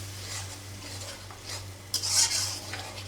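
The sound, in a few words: sautéing prawns with spices in a pan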